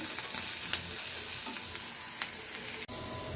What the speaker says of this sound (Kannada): ಈಗ ಇಲ್ಲಿ ಈರುಳ್ಳಿ ಫ್ರೈ ಮಾಡ್ಕೊತಾ ಇದ್ದೀನಿ